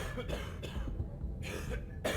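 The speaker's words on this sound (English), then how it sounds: "I hear coughing." A few muffled coughs in the video game Cyberpunk 2077 sound at intervals over a steady background hum, fairly faint and slightly distant.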